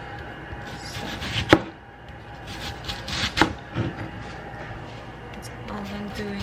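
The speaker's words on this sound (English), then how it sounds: "all I'm doing is just cutting onion and then slicing in half" A knife cuts and slices an onion on a board, giving a few sharp chopping knocks among softer cutting sounds, under quiet kitchen background noise.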